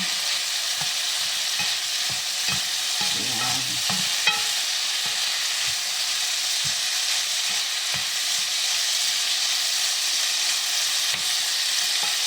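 Food frying in a pan sizzles with a constant hiss while a utensil stirs and mixes it, scraping and tapping against the pan in loose, irregular strokes close by.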